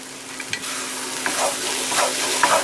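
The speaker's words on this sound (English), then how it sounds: "Stir that shit up." Stew being stirred and warmed in a hot pan alongside Hungarian nokedli dumplings, with soft scraping strokes and a low sizzle, a few distinct stirs spaced through the short stretch.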